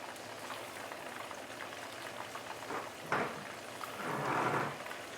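Very fresh, extra-large prawns sizzle and crackle as they fry in a pan over medium-high heat, a steady close hiss broken by a sharp spatter and then a louder surge of sizzling near the end.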